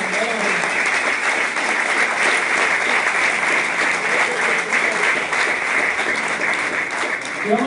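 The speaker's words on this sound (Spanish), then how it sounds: "Dele un aplauso al Señor." Worshippers at an evangelical church service in Mexico City clap in a long, steady, energetic burst, the dense applause holding at a constant level with cheering voices mixed faintly underneath.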